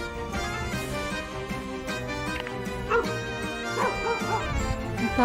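Dog on farmland near a river in the rural Philippines: yips and whimpering barks rising over a busy, steady background, fairly close and continuous.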